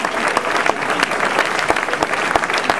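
Applause from the audience at a gala event in Mougins, France, a loud, steady, close run of clapping with a few sharp individual claps standing out.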